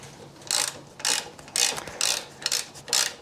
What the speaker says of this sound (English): I'm going to loosen the pinch bolt over here and then give it a whack